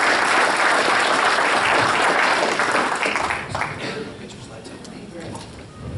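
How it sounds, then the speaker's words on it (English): An audience at a Fort Worth group meeting breaks into loud, dense applause to welcome a speaker to the stage, the clapping thinning and fading over the last few seconds. "Laura, please, round of applause."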